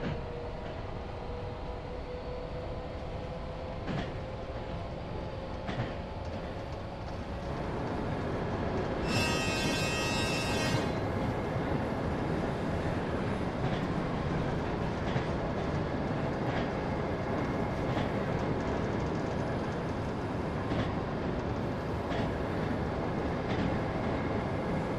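A train in the video game Running Train rolls along with a steady, loud rumble of wheels on rails and faint rhythmic clicks, and a horn blasts briefly partway through. Rain or blizzard weather is part of the setting.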